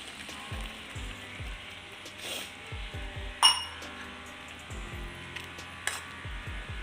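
A gas stove knob being turned to shut off the flame after making pachadi curry, a run of close, dry ratcheting clicks and small metallic clinks in quick irregular bursts.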